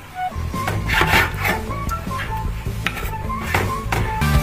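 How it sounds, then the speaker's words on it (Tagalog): Boiled beef innards are drained and sliced in a home kitchen, with a steady run of close clattering, wooden knocks and metallic scraping of pots and utensils, knife strokes mixed in, with no one talking. "So i-drain natin ito, hiwain natin para masimulan na natin yung pagluluto."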